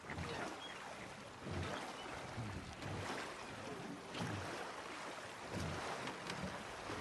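A boat glides across open water in Red Dead Redemption 2, a steady wash of water and wind noise swelling in slow surges, with no voices over it.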